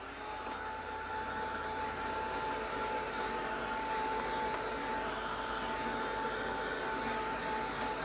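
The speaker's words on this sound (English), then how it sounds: "Now I'm going to just give this a quick sort of move with my heat tool." A heat tool blows in a steady, even whoosh across alcohol ink on Yupo paper for card making, holding a constant roar from start to finish with a faint whine running through it and no voice.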